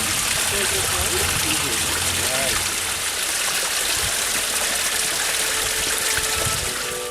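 Water trickling and dripping from an eroded rock overhang at Weeping Rock in Zion National Park, a continuous close wash of falling water with a voice talking faintly underneath.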